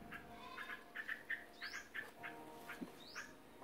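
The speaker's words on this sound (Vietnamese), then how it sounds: "Còn sao chim nó kêu nè" Birds squawk and call repeatedly along a rural river in the evening, fairly faint and spaced out, with a few rising chirps over a quiet background.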